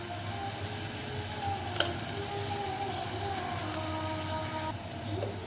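Onions sautéing in a pan with salt and turmeric give off a steady, close sizzle, broken by a single sharp tick partway through.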